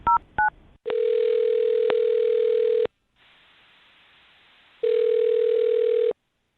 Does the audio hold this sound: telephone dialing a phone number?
yes